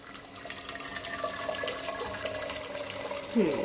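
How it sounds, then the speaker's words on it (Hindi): Hot water is poured into a cooker for steaming rava idli, a steady splashing stream running throughout and ending with a sharper splash. "गर्म पानी करको डाल रही हूँ"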